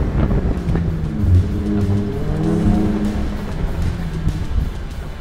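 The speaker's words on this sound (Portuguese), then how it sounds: "Um carro aberto, escutando o barulho do motor, que eu vou dar uma aceleradinha leve para vocês sentirem aqui" A Jeep Gladiator's V6 engine idles with a low rumble, then rises in a light rev and settles back, heard up close with no talking.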